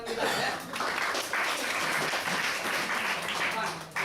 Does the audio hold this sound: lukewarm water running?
no